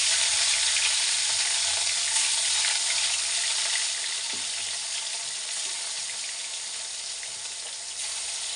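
Pieces of rui fish go into hot oil in a kitchen pan and set off a strong, steady sizzle. It is close and loud at first, then eases slightly, with a few soft clinks of utensils.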